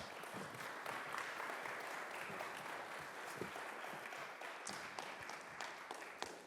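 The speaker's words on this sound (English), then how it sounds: "Let's give them a round of applause." An audience at a town candidate forum in Lexington, South Carolina claps for the candidates, a soft, distant, steady patter of applause lasting several seconds with a few sharper individual claps near the end.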